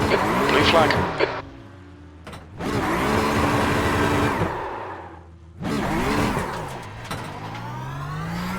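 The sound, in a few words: tyres skidding as brakes lock up, iRacing Porsche Cup video game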